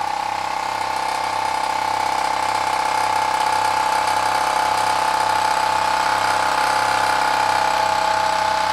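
A fairly simple engine runs steadily inside an enginehouse, a loud, continuous mechanical drone with a faint regular ratcheting pulse beneath it and no talking.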